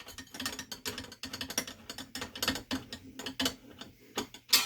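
Screws on a Scythe Mugen 5 CPU cooler mount being tightened down on an AMD AM4 board, a close run of quick irregular ratcheting clicks and metallic ticks.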